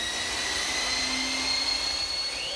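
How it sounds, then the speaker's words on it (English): A wide-blade bandsaw in a workshop resaws wood into thin strips, a steady close whine with a sustained high motor tone and a faint shift in pitch as the cut progresses. "to rip it into thin strips, just so happens that I have a bandsaw in the workshop equipped with a very wide blade,"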